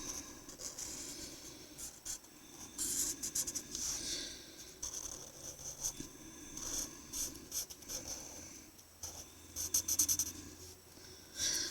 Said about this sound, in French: je vais faire tout avec les styles Sharpie